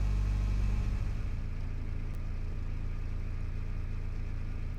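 A car engine drones at a steady low rumble from inside the moving vehicle, continuous and fairly loud, with no voices.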